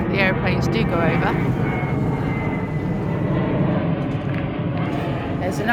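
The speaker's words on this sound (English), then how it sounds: "As I said, the aeroplanes do go over." Aeroplane passing over a farm campsite, a steady loud engine roar filling the whole stretch, with a person talking over it.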